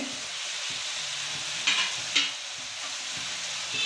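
Dried Guntur and Byadgi red chilies fry with fenugreek, curry leaves and cumin in hot oil, a steady close sizzle broken by a couple of sharp stirring scrapes.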